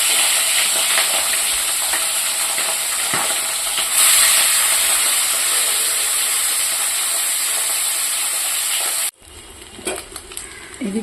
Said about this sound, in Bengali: আমার মাছটাও ভাজা হয়ে গেছে